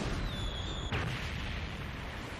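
A single sharp gunshot in a One Piece anime episode, one loud crack about a second in, set within a dense, noisy soundtrack that continues around it.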